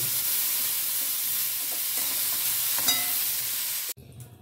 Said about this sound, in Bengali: দিয়ে আমি এই ওল আর আলু যে সেদ্ধ মানে ভাত দিয়ে রেখেছি, প্রথমে আমি এটা ভেজে নেব